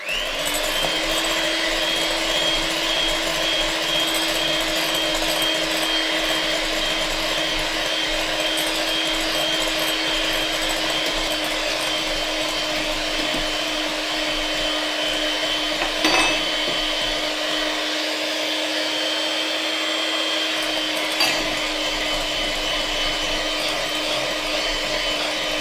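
Electric mixer whisking meringue as sugar goes in, a constant loud motor whir with a steady pitch running unbroken for over twenty seconds, a couple of small knocks along the way.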